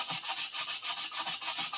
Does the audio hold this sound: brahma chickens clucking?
no